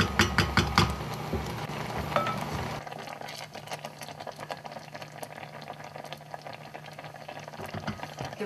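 Rhubarb compote, thickening like jam, simmers on a stovetop after a full boil. Loud bubbling and popping at the start drops to a quieter, steady burble of small bubbles with faint ticks, heard close up and without talk.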